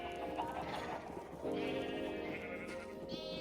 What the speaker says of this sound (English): So lots of baby sheep.